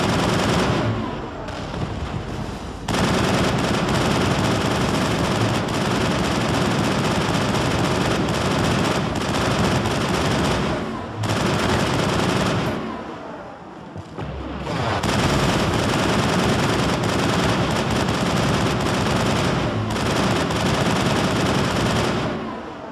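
A turret hammers away in Mass Effect with long, loud bursts of rapid automatic fire, broken by short lulls before resuming, heavy and continuous over the stretch.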